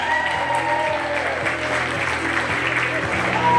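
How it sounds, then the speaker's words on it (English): Wedding guests applaud as the bridesmaid and groomsman are introduced, a continuous wash of clapping heard over steady amplified background music with a low repeating beat. "Let's give them a round of applause."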